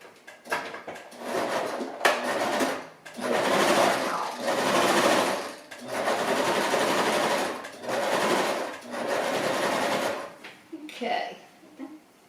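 A sewing machine stitches a narrow seam on a decorative pillowcase in bursts of several seconds each, with short pauses between runs and a little talk in the gaps.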